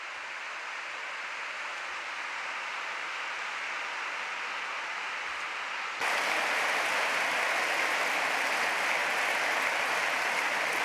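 Audience at a French-language gathering breaks into sustained, dense applause to welcome Monseigneur Pizzaballa, a steady wash of clapping that swells noticeably louder midway and continues without voices.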